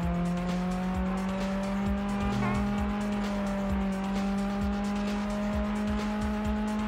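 An Aston Martin in the racing game Test Drive Unlimited drives along at a steady engine drone with a smooth sustained hum, the tone shifting slightly, with light tyre noise and no talking.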